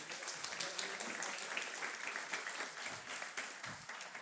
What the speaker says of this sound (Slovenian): Lepo prosim za aplavz.